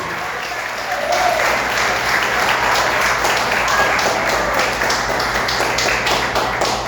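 Church congregation applauding during a sermon, a steady dense wash of clapping that starts up after the first second and holds evenly throughout, with no talk over it.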